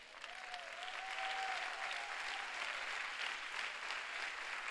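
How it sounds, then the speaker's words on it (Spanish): A church congregation claps strongly during a Sunday service, a broad sustained roar of hands building after a moment and holding steady, with a faint sung or spoken tone drifting through at the start. "denle fuerte ese aplauso a Dios"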